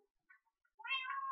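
A Minecraft cat meows once, loud and close, a rising harmonic call after a few faint soft chirps, with no talking.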